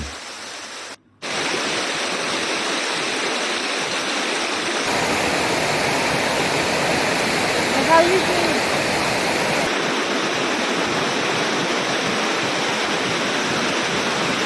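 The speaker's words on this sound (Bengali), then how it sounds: "অবশেষে আমরা পৌঁছে গেলাম রণ্যেশ্বরী ঝর্ণায়" Rushing water of the Riyong Curi waterfall in Rangamati, a steady, loud, broadband roar that fills the whole scene from start to finish, with a brief dip near the beginning and no clear talk above it.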